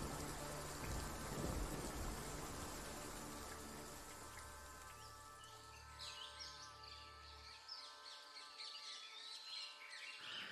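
Rain falls steadily in a forest setting as a broad wash of patter, with birds calling and chirping over it and a low rumble early on, fading to lighter drips and bird song.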